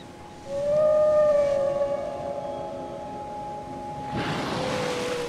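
Bryde's whales call underwater with long, tonal moans that waver and slide in pitch, loud over a hissing ocean background, then a noisier burst with a higher drawn-out tone near the end.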